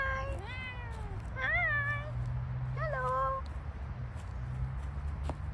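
A cat at a campsite gives three loud, close meows at a relaxed pace, each rising and falling in pitch, over a low background hum with no talk.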